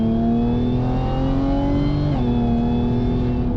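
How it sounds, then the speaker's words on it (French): A loud, continuous supercharger whine rides over the rumbling engine of an Audi S4 B8, its pitch holding steady, then dipping briefly before settling again. "le compresseur, on l'entend bien"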